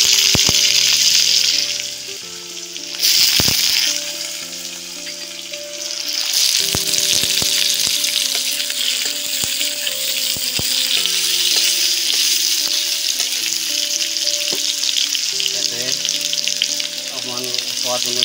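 Potatoes sizzle and crackle in hot mustard oil with bay leaf, whole cardamom and cumin, a loud, close frying hiss that dips briefly early on and then roars back steady, with scraping stirs along the way.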